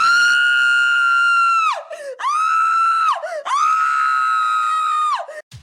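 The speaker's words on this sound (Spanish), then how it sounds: "se escucha el grito de una chica" A girl screams in terror, three long, loud, piercing screams with brief breaks between them, close and clear with nothing else behind.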